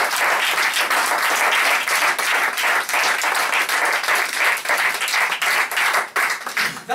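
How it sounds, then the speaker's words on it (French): A theatre audience in Nice gives loud, sustained applause after a comedy stage performance: dense, continuous clapping from a crowd that fills the room for several seconds. "Vous pouvez les applaudir bien fort."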